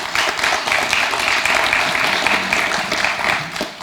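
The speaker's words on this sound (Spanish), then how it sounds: "La recibimos con un fuerte aplauso" An audience at a gathering of Andean Indigenous peoples applauds loudly as the Andean Parliament president is welcomed, with thick, continuous clapping from many people that holds steady throughout.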